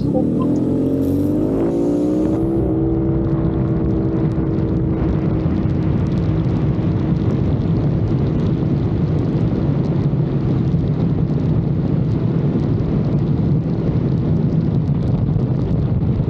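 A Yamaha XMAX 400 scooter fitted with a turbo accelerates hard, its engine note rising over the first seconds and then holding as a loud, steady drone with heavy wind rush.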